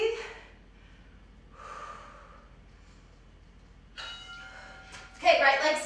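Heavy breathing during a high-intensity interval workout, with sharp close exhales and gasps separated by pauses, ending in a louder effortful breath.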